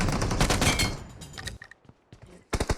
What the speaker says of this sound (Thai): อสี่มันยิงใครอยู่ข้างบนวะ